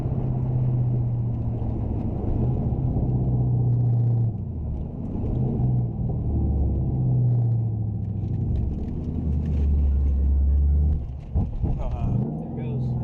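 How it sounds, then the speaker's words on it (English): A Saleen GT with an ECU fault that cuts out on left turns, its engine rumbling steadily from inside the car on a test drive, a low drone rising and easing, under continuous talk. "taking the GT out for a little test drive"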